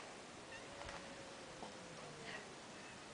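A cat gives a faint, distant meow or two through a steady background hiss.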